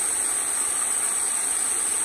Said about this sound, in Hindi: artificial waterfall